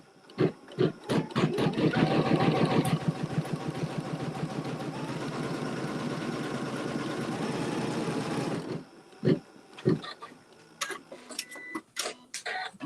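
Sewing machine quilting a pieced quilt block, a few handling knocks before a steady run of rapid mechanical whirring and stitching, then stopping abruptly followed by scattered clicks and taps.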